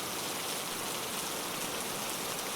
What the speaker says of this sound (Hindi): इतनी तेज बारिश में